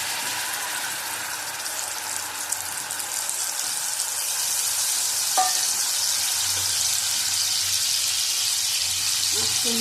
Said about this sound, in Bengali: টমেটো দিলাম একটা গোটা।